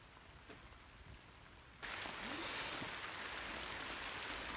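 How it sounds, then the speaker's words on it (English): Rain arrives suddenly at a dry outdoor site where a shed foundation is being laid near woodland, switching from near-quiet to a steady, dense hiss of falling drops that carries on with no talking. "it looks like I've been rained off"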